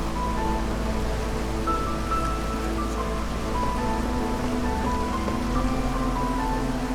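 Steady rain hisses during drizzle season in the city-building video game Against the Storm, a soft even wash of falling drops that runs continuously with no talk.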